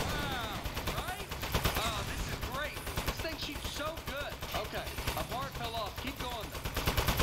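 Rapid gunfire from shooting at crates in the video game Aperture Desk Job, a dense continuous rattle of shots with some crates exploding, running throughout under game sounds and a voice talking.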